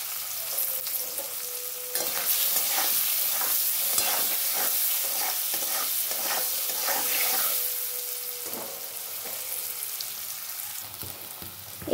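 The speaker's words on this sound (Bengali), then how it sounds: "পনিরটা কিন্তু আমার এখনো ভাজা হচ্ছে" Paneer cubes fry in oil in a pan at home, giving a continuous close sizzle with bursts of crackle and a few stirring scrapes, steady with no one speaking.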